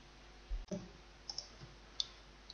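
A few sharp computer mouse clicks stand out against a quiet background, spaced irregularly, soft and close.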